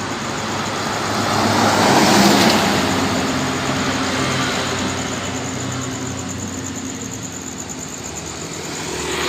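A bus on a road near Siantar, rising to a loud pass at about two seconds and then fading into a steady engine and road rumble.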